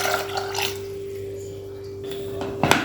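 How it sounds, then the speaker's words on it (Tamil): Water runs into a pressure cooker holding soaked green peas, a low steady liquid stream with a few splashy bursts and a brief clatter near the end, close and fairly quiet. "இப்போ பட்டாணி முங்குற அளவுக்கு தண்ணி ஊற்றிக்கலாம்."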